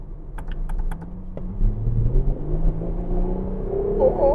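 A Ferrari 12Cilindri's naturally aspirated V12 engine hums and rises in pitch as it revs, with a few light clicks at the start and a whine near the end.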